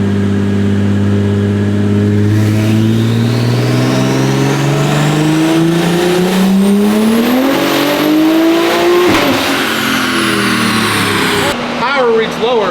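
A 1200 hp turbocharged BMW M4 on a dyno pull, its engine revving loudly and climbing steadily in pitch for several seconds before dropping off, with wheelspin on the rollers.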